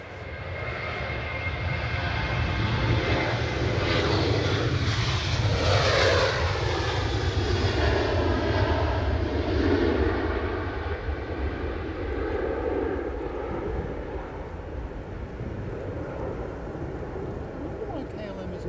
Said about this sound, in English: Our BA's behind the Lufthansa that's coming in now.